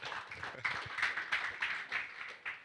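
Brief scattered applause from a small audience, light claps with a few distinct sharper hits, fairly close and unaccompanied by voices.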